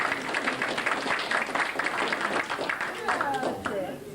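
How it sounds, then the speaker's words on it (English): Guests at a 50th wedding anniversary party clap for the children, a dense patter of hands with a voice heard over part of it and the applause thinning toward the end. "So they deserve a clap for that."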